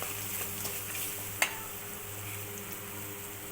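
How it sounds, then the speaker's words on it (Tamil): Onions sautéing in a pan with a little salt and turmeric give a steady, quiet sizzle throughout, with one brief sharp clink near the middle and no talking. "கொஞ்சமாக உப்பு கொஞ்சமாக மஞ்சள் தூள் ரெண்டையும் போட்டிங் போட்டு வதக்கிக்கோங்க"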